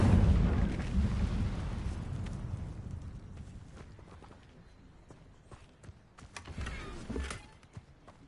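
A loud whooshing burst of flame from the Incendio fire spell in Hogwarts Legacy flares at the start and fades, with a second smaller flare and crackle later on.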